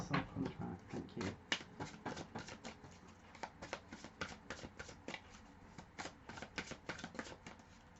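Tarot cards being shuffled close up, a quick run of crisp riffles and soft taps repeating steadily.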